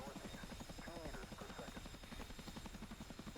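Chinook helicopter in the DCS World flight simulator, Cold War Germany map: a steady, close rotor drone with rapid rhythmic blade chop throughout, a voice talking over it.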